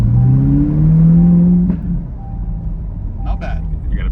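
A C8 Corvette E-Ray with an AWE Track Exhaust revs up, a loud, close, rising engine drone that climbs and then drops back to a low idle rumble.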